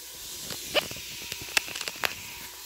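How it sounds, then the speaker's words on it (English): Onions and garlic sautéing in olive oil for a keto sausage lentil soup: a soft, steady sizzle with a few brief sharper crackles and spits, close up and fairly quiet. "I'm sauteing the onions and the garlic in the oil"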